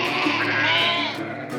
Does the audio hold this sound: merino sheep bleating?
yes